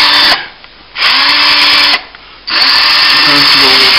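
Two loud bursts of a high whirring screw gun driving screws into wood, each about a second long, separated by quieter gaps with background talk.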